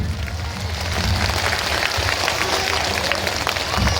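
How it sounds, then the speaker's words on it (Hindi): A large crowd at a political rally applauding loudly to welcome a minister, dense sustained clapping that swells slightly toward the end. "एक बार जोरदार ताली बजा के जैसे स्वागत करो माननीय मंत्री जी का।"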